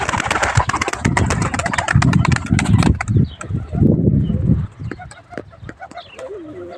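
Pigeons coo and flutter inside a loft, with wings flapping and birds shuffling close by, busy at first and then thinning to quieter calls.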